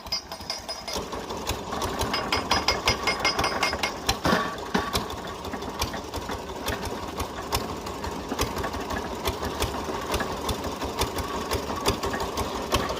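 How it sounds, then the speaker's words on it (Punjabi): Wire-winding machine coiling wire for a tube well filter, a dense rapid mechanical rattle and clatter with steady rhythmic ticking, loud and continuous throughout. "ਇਸ ਤਾਰ ਨੂੰ ਇਸ ਮਸ਼ੀਨ ਤੇ ਲਪੇਟਿਆ ਜਾਣਾ"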